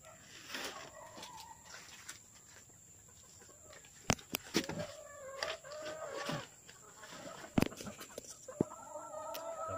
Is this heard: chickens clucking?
yes